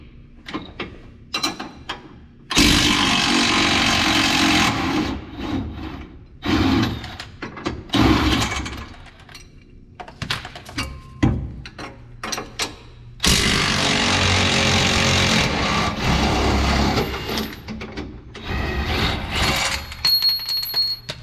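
A power tool works loose a 21 mm shock bolt on a new Chevrolet Silverado during a leveling kit install, sending loud close bursts of buzzing and rattling that start and stop, with quieter clanks between them.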